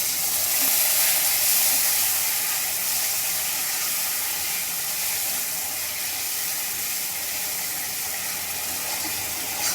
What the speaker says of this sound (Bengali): এবারে আমরা সামান্য পরিমাণে কিছুটা জল দিয়ে দেব